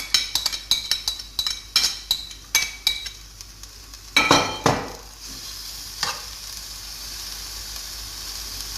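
Onion and garlic tossed into hot oil in a pan, with a run of sharp utensil clinks and stirring scrapes over a steady sizzle that settles into continuous frying, close and with no talk.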